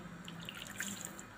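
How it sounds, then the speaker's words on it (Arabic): Warm water trickles onto couscous by hand, a soft continuous splashing and dripping, faint and close, with no voices. "ومن بعد نضيف شويه ماء دافي"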